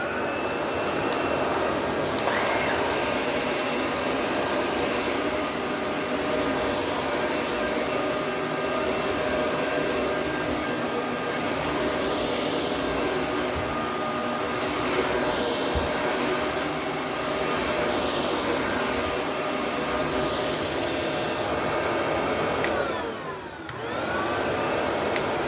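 A vacuum cleaner roars continuously on carpet during a test run, a loud, close, steady motor whine with small shifts in pitch as it moves, and a brief dip near the end.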